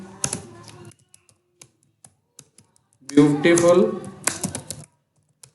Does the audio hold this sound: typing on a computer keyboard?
yes